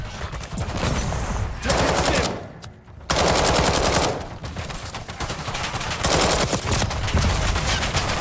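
Bursts of automatic gunfire in Call of Duty Black Ops 6, loud and close, with a brief lull before heavy firing resumes.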